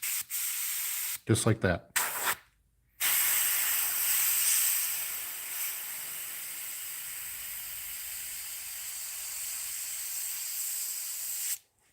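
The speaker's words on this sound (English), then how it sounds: "I just want to spray on the tape." Spray paint hissing onto tape over a musky crankbait lure, a steady, close aerosol spray lasting several seconds after a few short bursts, with brief speech at the start.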